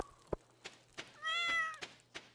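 A single drawn-out cat meow from Stardew Valley sounds between a few soft, evenly spaced game thunks and taps, with no voices over it.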